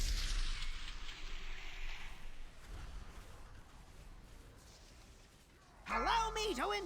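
A Blaster Cannon ability fires during a video game raid, giving a loud, booming blast with rumbling noise that fades over a couple of seconds, followed later by a synthetic game voice.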